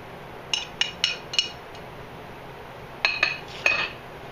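Protein powder waffle batter being mixed with milk in a bowl, two quick runs of bright clinking taps from a utensil against the dish, separated by a brief pause, with no talking.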